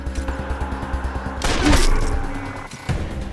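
A sniper rifle fires in the video game Wasteland 2, a sharp, booming crack with a lingering tail that cuts through a steady, rhythmic thumping background, followed by a second, shorter burst.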